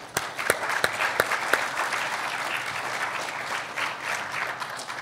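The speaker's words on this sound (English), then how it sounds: "I'd like to give a round of applause to everybody here" Audience applause at the 2012 IAUG conference in Boston after a speaker thanks the attendees: a steady wash of many hands clapping for about five seconds, opened by a few sharper, louder claps standing out near the front.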